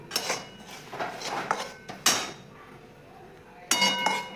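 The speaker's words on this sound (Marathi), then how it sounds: "रवा छान सोनेरी रंग येईपर्यंत घेऊयात भाजून" A spoon clinks and scrapes against a kadhai while semolina roasts on the gas, sharp metallic taps at irregular intervals over a quiet background.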